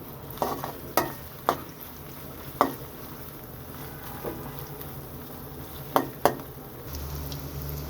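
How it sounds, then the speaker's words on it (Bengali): Chopped onion frying with shrimp in a pan is stirred, giving a steady close sizzle broken by several sharp scrapes and clinks of the spoon against the pan. "এবার এটাকে নেড়ে ছেড়ে ভালো করে মিশিয়ে নেব।"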